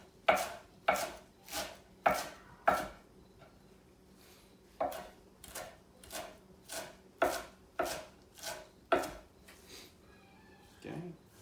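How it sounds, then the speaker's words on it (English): A knife chops a bunch of cilantro finely on a cutting board in a steady series of sharp, close knocks, a short pause breaking the rhythm partway through, with faint kitchen noise underneath. "Grab a bunch of cilantro, just a fine chop."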